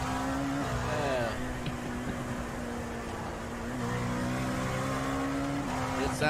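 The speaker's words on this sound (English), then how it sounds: "It sounds like a gravel driveway coming down that corkscrew at the moment." Race car in the iRacing sim at Laguna Seca running the corkscrew, a steady engine drone with a rough gravelly rumble and shifting pitch, continuous and moderately loud, with no talk.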